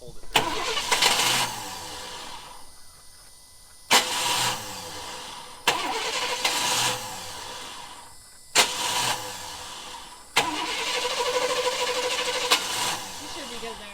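A truck with a faulty starter cranks over and over in repeated bursts, each attempt a loud grinding churn that cuts off abruptly, with the engine briefly catching between tries. Close up, with people talking between attempts.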